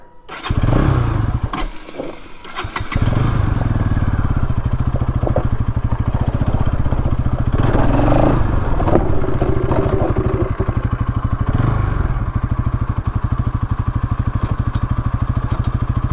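A motorcycle starts and then runs with a loud, close, continuous engine drone and steady thrum, idling and revving without pause and with no one speaking.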